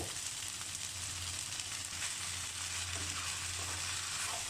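Glass noodles with holy basil leaves being stir-fried in a hot pan, a loud, constant close sizzle with faint stirring and no voices.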